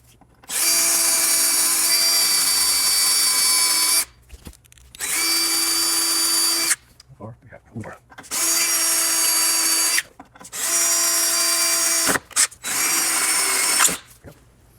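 A power drill enlarges a bolt opening on an old Toyota, running loud and close in four long high-pitched whining bursts separated by short pauses with faint clanks.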